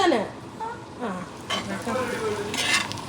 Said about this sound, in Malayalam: അമ്മ ചെമ്മീൻ ഫ്രൈ ഉണ്ടാക്കുന്നു